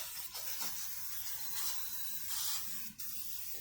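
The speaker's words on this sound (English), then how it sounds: "So now we're going to spray some brake cleaner on, get the grease off of it." Brake cleaner hisses from an aerosol can onto greasy brake parts of a 2015 Mazda3, a close, continuous spray with brief pauses and a small click near the end.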